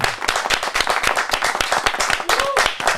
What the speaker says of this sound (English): how about a big round of applause, Mr. Zak St. John.